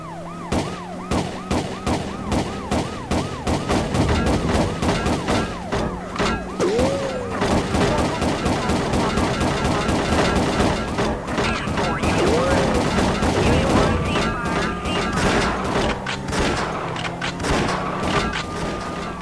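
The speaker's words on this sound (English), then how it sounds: "Suspect is firing at us." Loud, sustained bursts of gunfire in a police shootout in the PS1 game World's Scariest Police Chases, mixed with wailing sirens and dense action noise throughout.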